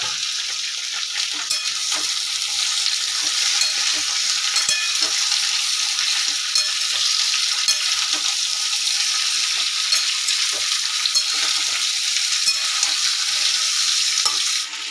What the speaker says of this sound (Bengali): কুমড়োটা যেই ভাজা ভাজা হয়ে যাবে দিয়ে দিতে হবে কেটে রাখা রাঙা আলু